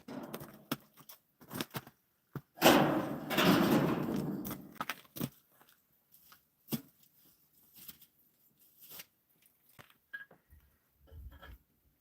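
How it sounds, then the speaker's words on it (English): Pots and pans bang and clatter in a kitchen in scattered bursts: sharp metallic knocks, a longer rattling scrape and intermittent clinks separated by near silence. "That's just me banging the pots and pans in the kitchen."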